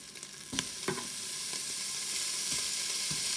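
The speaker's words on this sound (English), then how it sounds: "we are now going to add in the minced beef" Beef mince, about 500 grams, dropped into a hot Instant Pot for bolognese sauce, sizzling and frying steadily up close with a few stirring clatters and no talking.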